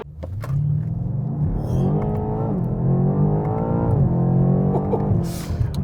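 A 2020 BMW M8 Competition accelerates hard from 0 to 100 km/h with manual shifts, its engine roaring loud and close, rising in pitch through each gear and dipping briefly at every upshift before climbing again.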